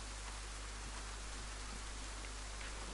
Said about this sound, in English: All the damn rain.